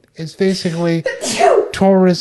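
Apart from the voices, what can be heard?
sneeze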